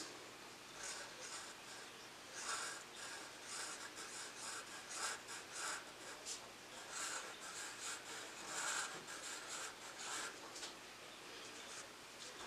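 A pen writes cursive letters on paper, giving a close, quiet run of rhythmic scratching and rubbing strokes with brief pauses between letters.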